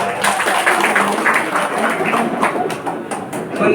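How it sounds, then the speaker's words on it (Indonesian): An audience at an Indonesian public program gathering in Banjarnegara claps together, a loud, dense wash of applause with a murmur of voices mixed in, continuing steadily throughout. "Tepuk tangan untuk Pak."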